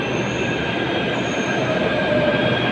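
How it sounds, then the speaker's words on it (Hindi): Delhi Metro train pulling into a station platform, a steady close rumble with a high wheel squeal and a hiss sustained throughout, no voices. "अब आई है इस साइड की मेट्रो"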